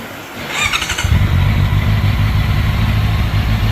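A 2025 Honda CBR650R fitted with a performance mod cranks with a brief starter whine, then fires up and settles into a loud, steady, bassy idle close to the microphone.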